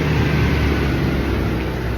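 Trucks passing through a small town center on a truck route, a steady close rumble of engine and road noise with no gaps, loud and continuous throughout.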